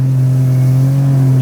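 A vehicle engine is held on the throttle at high revs, giving a loud, steady droning hum with strong tonal harmonics and no speech over it.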